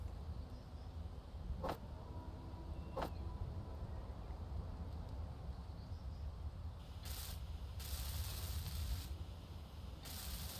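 A hinge is welded in the video game Space Engineers: two sharp mechanical clicks, then bursts of hissing, spraying noise that start and stop over a low background hum.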